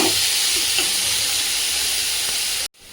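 Chopped onion and ginger paste frying in plenty of oil while being stirred, a loud continuous hiss with faint scraping underneath that cuts off abruptly near the end.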